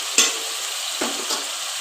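Spice masala with salt and turmeric fries in a pan under a steady sizzle while a spoon stirs it, giving two or three distinct scraping strokes.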